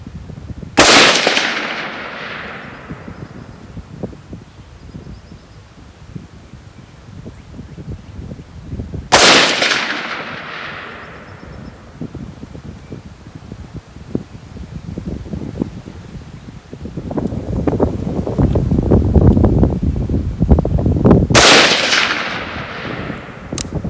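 Three sharp, loud 6.5 Grendel rifle shots crack outdoors several seconds apart, each followed by a short decay, while gusty wind rumbles and buffets steadily in between.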